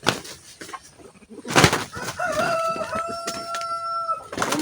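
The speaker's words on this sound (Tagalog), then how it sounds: "So, may dalawang tandang na naman." A backyard rooster crows one long, clear, drawn-out call close by, preceded by faint clucking and a brief rustle of wings.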